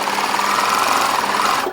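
A sewing machine runs steadily, stitching bias binding onto a Felix jacket as a fancy trim, with a continuous close hum and no pause before it stops near the end.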